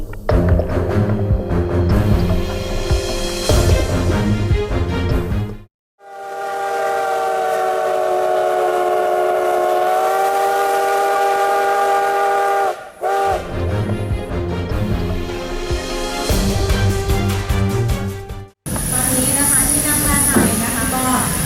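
A train blows its steam whistle at a sound-and-light show at the Kanchanaburi railway in Thailand. One long, loud, sustained whistle blast stands between stretches of rumbling, clattering train noise and crowd sound.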